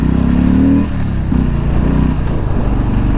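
A 2020 Harley-Davidson Street Bob cruiser accelerating, its engine giving a loud, steady, throaty drone that shifts pitch slightly as the revs change, close and continuous without talk.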